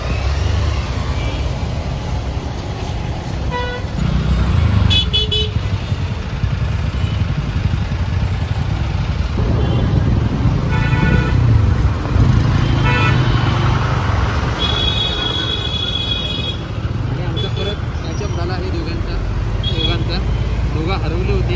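Heavy road traffic on a jammed highway, with a constant rumble of cars and trucks, several short horn toots and rattles close by, and people talking over it throughout.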